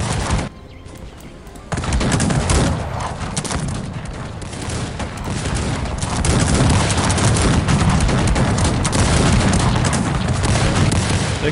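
Musket volleys in the Cossacks 3 strategy game: after a brief lull, dense crackling massed gunfire and booms erupt and roll on loudly, mixed with battle din.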